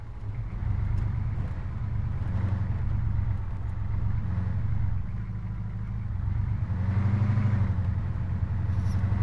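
A car engine drones steadily while driving in the military game Arma 3, a low mid-pitched hum that swells and eases slightly over several seconds, with no talking.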